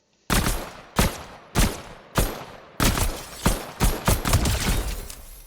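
Pistol fire in a video game, eight sharp shots in a loose rhythm, the first few spaced apart and the last ones quicker, loud and close with no voices.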